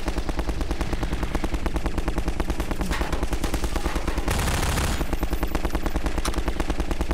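Rapid, relentless automatic gunfire from Half-Life 2 weapons, a dense nonstop stream of loud close shots with heavier bursts layered in, no pauses throughout.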